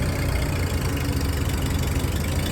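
A Kubota tractor works through thick mud, pushing a path open for a ten-wheel truck, its engine a steady, loud, rough diesel drone with a low knocking throb that carries on unbroken, no voices over it.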